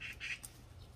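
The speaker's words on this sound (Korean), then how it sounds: "새들이 지네 밥 내가 딴다고 뭐라고 하나?" Birds call near a fruit-laden silverberry tree on a farm during harvest, a couple of faint squawking cries at a distance with no talk.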